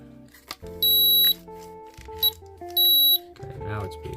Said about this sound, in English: Okay, now it's beeping.